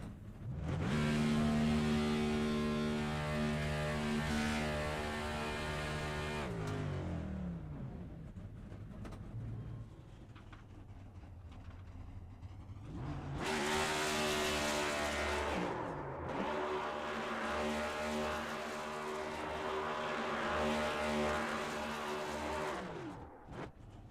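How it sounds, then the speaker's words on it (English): A V8 race car in iRacing at Richmond revs hard through first gear during a burnout, a loud, continuous engine roar with tire squeal that dips briefly, then surges back to full howl and holds. "enjoy the sound of this V8 just cranking it up here through about"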